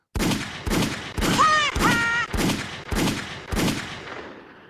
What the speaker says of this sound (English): Motherfucking gunshots in the goddamn chat, you dig?